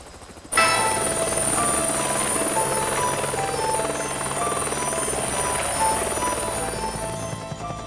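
Police helicopter rotor and engine drone starting abruptly after a brief quiet moment, then holding steady, loud and continuous with a high whine on top, slowly easing slightly toward the end.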